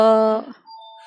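A two-tone electronic doorbell chime rings once, loud and close, followed by a faint high ding.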